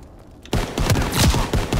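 Rapid gunfire from Call of Duty: WW2 erupts after a quiet half-second, a dense burst of repeated shots that rings out loud and close for the rest of the moment.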